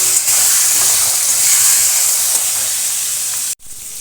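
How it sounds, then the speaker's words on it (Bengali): Small winter potatoes sizzle steadily in hot oil with salt and turmeric, a loud, continuous frying hiss with faint stirring that cuts off abruptly near the end. "আলুটা ভেজে নেব একটু লবণ আর হলুদ দিয়ে লাল লাল করে ভেজে নেব।"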